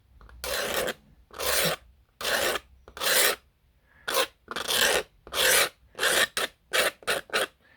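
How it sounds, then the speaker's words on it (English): A scalpel blade scrapes paint off an edge in a dozen short, rasping strokes, close and crisp, evenly spaced with brief silences between them and no voices. "if you take a scalpel blade, hopefully you can see this, and you scrape it"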